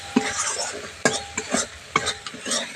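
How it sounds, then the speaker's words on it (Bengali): Ground spices for dhaba-style matar paneer being stirred and fried in a pan over low heat, with a steady soft sizzle broken by several sharp spoon scrapes against the pan, close up and without talk. "মশলাটা দিয়ে ভালো করে আবারও কষিয়ে নিচ্ছি"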